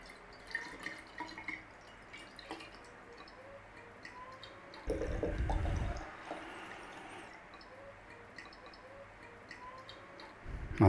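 Homemade ketchup is poured from a jug into a bottle, giving soft drips and thick glugs with small clicks, mostly faint, plus a brief louder burst of handling partway through.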